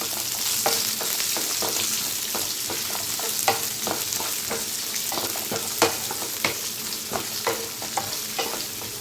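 Onions frying in hot oil with mustard seeds, fennel and chana dal for potato poori masala, a bright continuous sizzle with regular scraping stirs close by.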